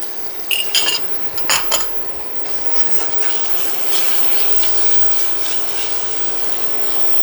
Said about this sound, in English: And then we're just gonna scramble it up.